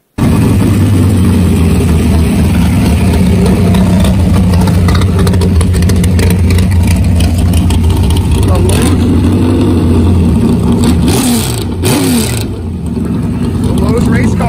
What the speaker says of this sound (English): Saloon race car.